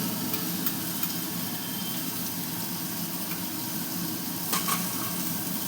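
Potatoes frying in oil in a pan with turmeric and salt, a steady close hiss of sizzling that carries on throughout, with a couple of faint clinks and no talk.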